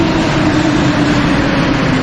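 A Paris metro train arriving at the platform fills the space with a loud, steady rumble and rolling roar, close and continuous with no voices.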